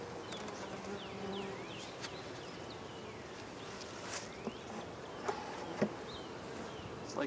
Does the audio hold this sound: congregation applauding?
no